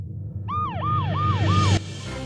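An opening toy police car sounds its siren: four quick rising-and-falling electronic wails in a row, loud and close over a low background hum, then cutting off abruptly.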